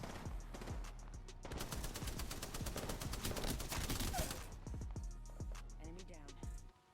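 Rapid bursts of gunfire in the video game Apex Legends, loud and close, a fast string of sharp shots building to a dense volley before tapering into a few scattered shots.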